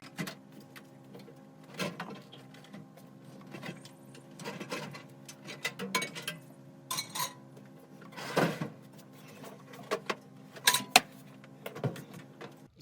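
Intermittent scraping, knocking and rattling bursts of a microwave being slid out of an RV cabinet, with quiet pauses between the movements.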